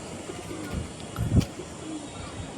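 Domestic pigeons give a soft, low coo that rises briefly near the middle, over a steady background hum, with no speech.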